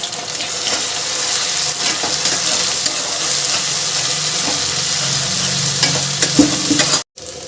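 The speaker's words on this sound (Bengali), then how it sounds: "বেটে রাখা মশলাটা এবার দিয়ে দেব।" Ground spice paste fries with browned onions in a pan for a prawn and potato curry, a steady close sizzle with repeated stirring scrapes, briefly cut off near the end.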